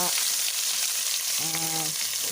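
Curry leaves crackle and sizzle in hot oil for Chapati noodles, a loud steady frying hiss filling the whole clip, with a brief harmonic tone rising midway.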